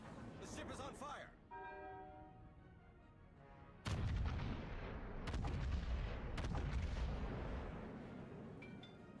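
Heavy ship artillery in the naval combat game World of Warships, featuring a Yamato battleship, with deep booming salvos and rumbling echoes, a tonal alarm-like horn early on and a voice speaking at the start.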